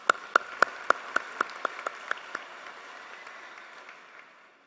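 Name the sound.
audience clapping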